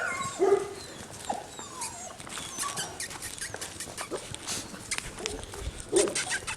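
Six-week-old Bernese Mountain Dog puppies from a litter whimper and squeak in short scattered bursts amid rustling and shuffling nearby.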